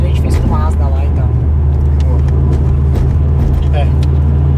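A 400 hp turbocharged Subaru pulls away hard from a standstill, its engine a loud, steady low roar that holds throughout, with voices talking over it inside the car.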